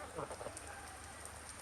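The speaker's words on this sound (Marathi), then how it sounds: "पाऊस आला बघा।" Steady rain falling outdoors during a rainy-season ride near Mothagaon Mankoli Bridge, a continuous soft hiss of drops on surfaces, fairly quiet and even throughout with no voices.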